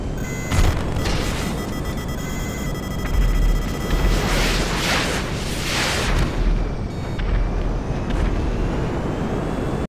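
A B-11 Strike Force jet in GTA Online roars through a dogfight as heavy explosions and booms burst repeatedly over a dense, continuous wash of engine and combat noise.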